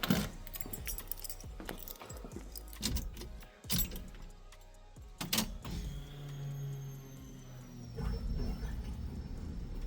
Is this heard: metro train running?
no